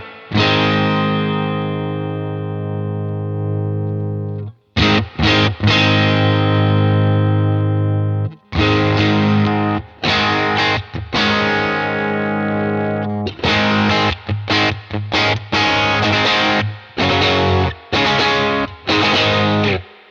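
Electric guitar played through an overdriven Deluxe Reverb amp with a UAFX Dream pedal in overdrive mode, loud sustained chords followed by choppy, rhythmic strummed phrases with short gaps, with no talking.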